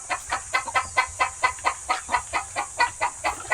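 Chickens clucking with chicks nearby, a steady rhythmic series of close, repeated clucks at an even pace, loud and clear with no talking.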